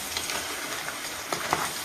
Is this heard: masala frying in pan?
yes